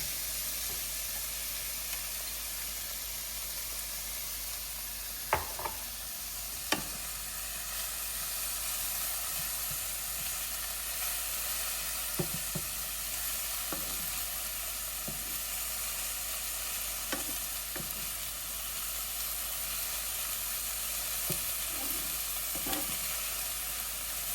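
Shallots frying in a pan with sautéed golden mushrooms, a steady broadband sizzle throughout with occasional stirring clinks and scrapes, moderately loud and close, no voices.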